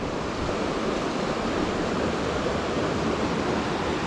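Steady broadband rush of a river flowing through boggy ground on the Aran Ridge, continuous and fairly loud with no pauses or voices across the whole span.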